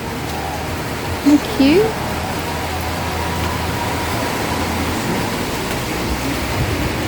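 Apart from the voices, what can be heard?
heavy rain pouring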